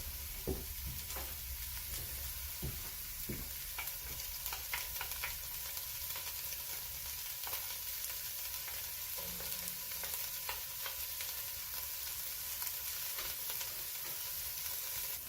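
Minced garlic and celery sizzle in a hot pan for a vegan Irish stew, a steady, quiet frying hiss with occasional stirring clicks and scrapes, no voices.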